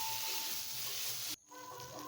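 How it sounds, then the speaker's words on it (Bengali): Potatoes frying in a pan for a vegetarian raw-banana kofta curry give off a steady close sizzle that drops suddenly to a quieter, thinner crackle partway through. "দেখো আলুগুলো কেমন লাল লাল ভাজা হয়েছে"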